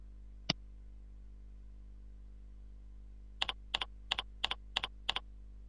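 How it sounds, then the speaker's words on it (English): One key tap, then a quick run of about a dozen crisp clicks in pairs on a computer keyboard as a password is typed, close and clear over a low steady hum. "Enter the password."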